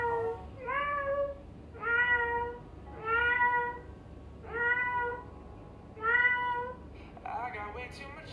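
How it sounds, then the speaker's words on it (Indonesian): A house cat meows five times in a slow, evenly spaced series, each call drawn out and clear, close by, with a brief different sound at the end. "pake suara kucing juga."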